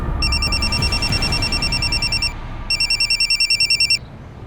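A telephone rings loudly in two electronic trilling bursts, the first long and the second shorter and pulsed, with a brief gap between them and no talk.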